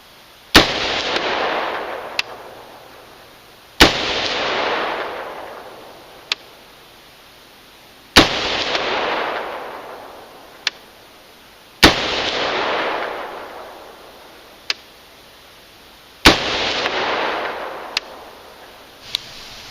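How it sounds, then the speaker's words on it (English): A CMMG Mutant rifle fires five spaced shots while shooting groups at 100 yards outdoors. Each sharp loud crack is followed by a long rolling echo, with faint clicks between shots. "let's get some 5-shot groups down range at 100,"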